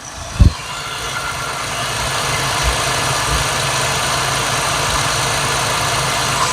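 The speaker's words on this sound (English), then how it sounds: "right off the get-go here, the Valvetrain sounds quieter and happier to me" A Jeep 3.6 Pentastar V6 idles steadily up close, a smooth continuous engine hum with light valvetrain ticking, plus a brief knock near the start.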